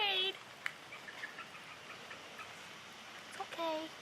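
A flightless baby bird gives short high chirping calls at the start and end, close and faint over a quiet background, with a voice speaking softly in between.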